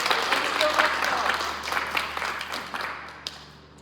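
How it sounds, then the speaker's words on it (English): A round of applause at a curator talk for a published poet, dense clapping that gradually fades over a few seconds while a voice speaks over it. "So one more round of applause"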